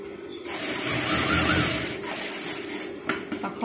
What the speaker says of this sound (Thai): จับให้เท่ากันทั้งบนทั้งล่าง แล้วก็เย็บไปเลยเนาะ